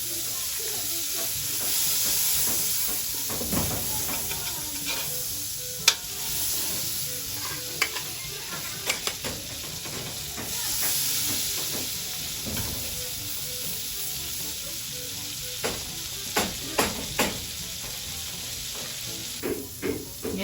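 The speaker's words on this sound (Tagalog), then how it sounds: "Lalagyan ko na po ng star margarine." Star margarine sizzles steadily in a hot pan while cooking carbonara, a continuous frying hiss with intermittent sharp crackles and pops, plus a few clicks and knocks in the kitchen, with no talking.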